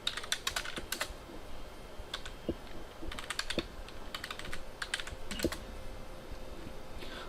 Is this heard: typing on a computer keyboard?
yes